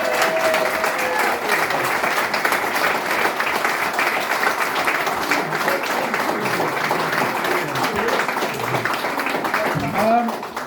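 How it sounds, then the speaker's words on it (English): An audience at a sports club evening gives a sustained, dense round of applause lasting about ten seconds, loud and even before tapering off at the end. "Please, one more fantastic round of applause for Sandy Kelso."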